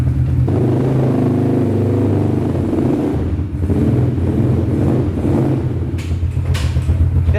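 An ATV quad bike, started by remote, accelerates with a loud, sustained engine drone close to the microphone, with wind buffeting throughout and a brief dip before the engine picks up again.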